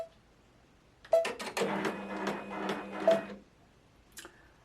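A sewing machine stitches socks or gloves in one rapid, rhythmic burst of about two seconds, fairly close, followed by a short pause and a single mechanical click.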